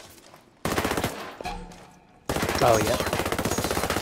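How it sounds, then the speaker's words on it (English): Rapid automatic gunfire in the shooter game Ghost Recon Breakpoint crackles in two loud sustained bursts, separated by a quieter stretch where a player speaks briefly. "I'm taking hostile fire."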